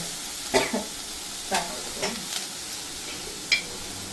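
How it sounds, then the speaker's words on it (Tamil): Mustard seeds hitting hot oil in a South Indian home kitchen pan, a steady soft sizzle with a few sharp pops and crackles spaced through. "எண்ணெய் காஞ்சிச்சு, நம்ம கடுகு போட்டோம்."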